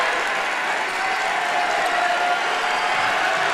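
A high school basketball crowd in a gym roars from the fan section, a loud, steady wash of cheering and clapping that swells slightly as it goes on.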